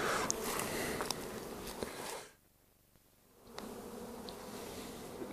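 Honey bees buzz faintly around open beehives during a hive inspection, a soft, diffuse hum that drops away for about a second before returning, with no talk.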